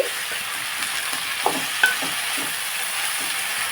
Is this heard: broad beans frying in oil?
yes